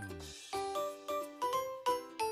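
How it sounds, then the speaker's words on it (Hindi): A call bell rings out a series of clear, tinkling ding-dong tones, about six struck notes in a quick, regular sequence, each ringing briefly before the next. "ये है पुकारने की घंटी और इसे इंग्लिश में कहते हैं कॉल बेल।"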